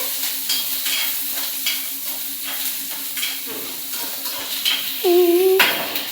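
Onion and curry leaves fry in a pan, giving a steady sizzle beneath repeated scraping strokes of a stirring spoon and a clear metallic ring of utensil on pan near the end, with no talking.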